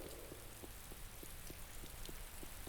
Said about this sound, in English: It's raining on Rubicar.